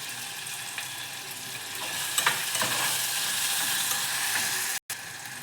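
Food for tomato bath sizzles steadily in a hot pan while a spoon stirs through it, a continuous close frying hiss with a brief scrape midway and a short break near the end; no talking.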